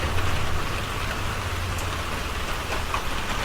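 Steady rain falls outdoors around a house yard with porches, a continuous soft patter of drops at close range with no voices.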